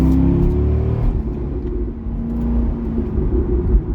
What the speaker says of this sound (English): I took the C6 for about a 20-minute ride to let everything fully warm